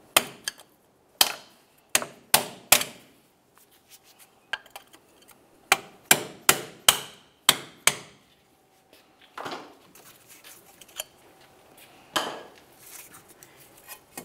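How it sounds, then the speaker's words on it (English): Sharp metallic hammer blows strike a stuck wheel bearing on a 2000-2006 Chevy Tahoe front steering knuckle in irregular bursts, some in quick runs of two or three, ringing briefly with quiet pauses between. "we'll use a pry bar and a hammer and try to break it free"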